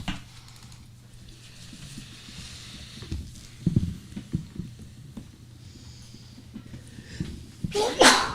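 A loud, sharp sneeze bursts out near the end after a stretch of quiet murmuring and faint background movement at a school board meeting.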